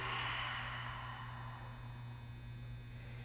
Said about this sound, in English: Open the mouth, exhale, and release.